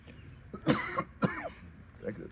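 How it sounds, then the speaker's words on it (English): Two harsh, close coughs in quick succession, triggered by baby powder, the second rougher and trailing off, with faint breathing around them. "that's the baby powder that's making me cough"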